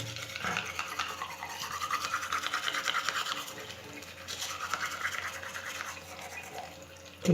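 A toothbrush scrubs teeth in a long, close, continuous wet bristle rasp, rising and falling in rhythm with the brushing strokes.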